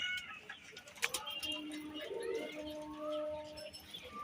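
A pigeon cooing nearby in a low, rolling murmur, joined by faint chirps and a brief sharp click.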